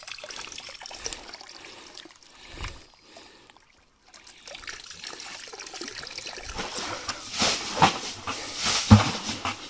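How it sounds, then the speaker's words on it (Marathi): Water trickles and splashes into a pool being bailed during traditional pond fishing. It is quiet and intermittent at first, then builds into louder, irregular gushing and spattering toward the end. "एक नंबर पाणी यायला लागलं हे पाय पाणी बघा"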